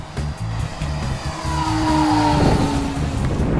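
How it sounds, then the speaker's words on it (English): A small engine on a Great Planes P-51 Mustang model airplane whines past at speed in a fast flyby, its pitch sweeping upward then dropping as it passes close, over a steady low buzz. "Okay, now it's time for a fast flyby."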